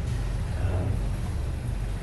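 A 2013 Haines 35 Sedan cabin cruiser's engine idles cold just after starting, a steady low drone heard close with no talk over it.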